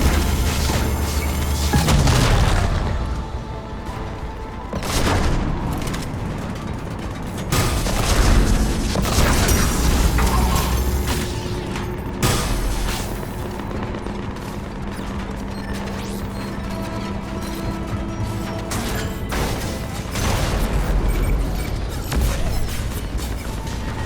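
Heavy cannon blasts and explosions roar through a Mass Effect 3 battle against an Atlas, repeated loud booms and crashes layered over a continuous rumbling din, with no talk heard.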